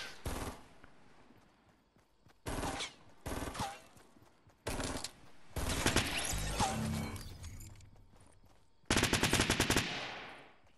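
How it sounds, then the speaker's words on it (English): Close-range SMG fire in a Fortnite 50v50 battle royale match: several loud automatic bursts of varying length, the longest and heaviest near the end, with game sounds between. "Can hear some someone nearby firing SMG"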